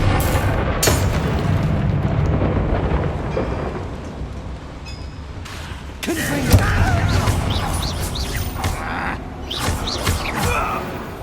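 A Bombarda spell blast booms in Hogwarts Legacy amid heavy rumbling combat noise, with a sharp explosive hit near the middle over continuous crackling game effects.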